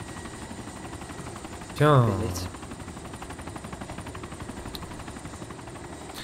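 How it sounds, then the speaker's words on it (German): A gun-equipped helicopter in the survival game DayZ Epoch gives off a steady rhythmic rotor chop that continues throughout. Someone briefly speaks over it. "Das ist sogar ein Heli mit Gun."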